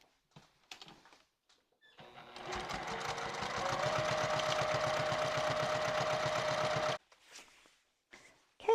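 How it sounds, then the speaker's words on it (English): A sewing machine runs a continuous row of stitching along the open edge of a thick four-ply tote bag strap, a fast, even mechanical chatter lasting about five seconds between quiet handling noises. "Now I just want to run a row of stitching down this open edge all the way down"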